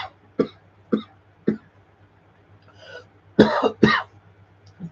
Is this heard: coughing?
yes